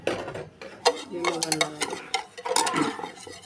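Eggs and sugar stirred together in a bowl for a pudding: close, clinking scrapes of a utensil against the bowl in quick irregular strokes, fairly quiet.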